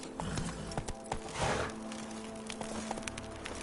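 Horse hooves clip-clopping at a steady rhythm while riding in The Witcher 3: Blood and Wine, close and fairly loud over a low ambient game background, with a brief whinny-like swell midway.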